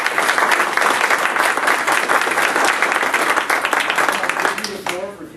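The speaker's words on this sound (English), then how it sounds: "Maybe just a quick round of applause for our speakers here." A conference audience gives a dense, loud round of applause for the speakers that carries on evenly before fading, with a voice starting to speak as it dies away.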